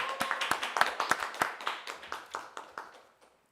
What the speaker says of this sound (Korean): 박수 시원찮은데 다시 박수로 맞이합시다